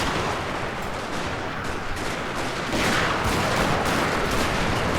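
Musket volleys in the Shogun 2: Fall of the Samurai video game, a dense continuous crackle of gunfire rolling on throughout, growing slightly louder partway, with no talk over it.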